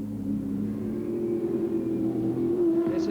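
A 5-litre touring car engine races at the 1995 Adelaide Grand Prix. A continuous low, droning roar holds steady for several seconds at moderate distance.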